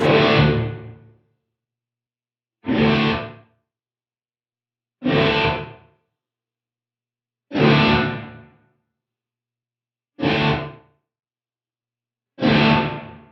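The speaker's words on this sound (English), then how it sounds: "Reverb just drags on a little bit longer." Six evenly spaced guitar strums through a Line 6 Helix large-room reverb set to 12 meters, each ringing out with a long, spacious reverb tail before fading to silence; no talking.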